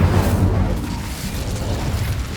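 Incendio fire spell cast in Hogwarts Legacy, a heavy, rumbling whoosh of flame that bursts loudly at first and then roils on in a steady low roar, alone without talk.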